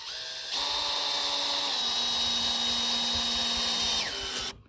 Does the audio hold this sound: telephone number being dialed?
no